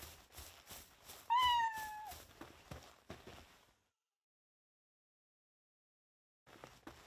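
A cat meows in the Palworld video game, one clear rising-and-falling call over soft game sounds and footsteps, followed by a long stretch of silence.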